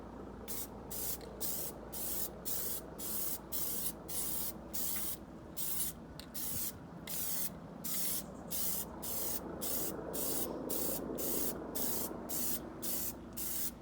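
Plasti Dip spray cans hiss in short repeated bursts onto a car wheel of a Subaru STI, about two dozen evenly paced sprays up close with brief gaps in between.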